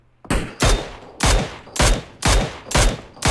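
Gunfire in a shooter video game, loud close bursts of shots in a steady rhythm of about six volleys, each with a sharp attack and short decaying tail, no talk.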